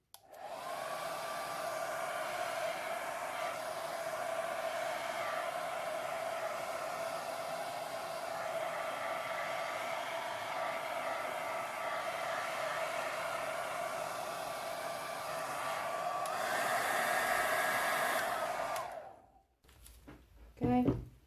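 A heat tool blows over resin art with rose gold, midnight black and white pigments, giving a steady whirring hum and airy rush that holds for most of the time, swells louder near the end, then cuts off.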